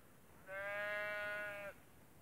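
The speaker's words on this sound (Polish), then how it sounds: "Przyczepiła się i nam tu beczy." A sheep bleats once on a hillside walk in the Peak District, a single clear sustained bleat lasting about a second, close and loud against quiet outdoor background.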